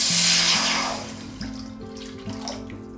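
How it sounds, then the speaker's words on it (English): Two cups of water rush from a tap into a wok for a bok choy and mushroom stir fry, a loud splashing pour that tapers into quieter running water with a low hum and faint clinks. "In a wok, let's add 2 cups of water and bring it to boil."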